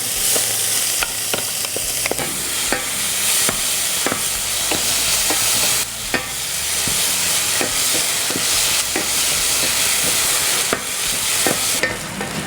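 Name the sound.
sautéing spice paste in hot oil for ayam woku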